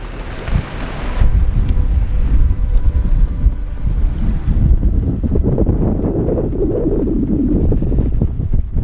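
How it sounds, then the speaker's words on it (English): Strong wind buffets a sailboat moored ahead of a hurricane, a loud continuous roaring rush with gusty microphone rumble and water sloshing against the hull. "So the wind has only just picked up."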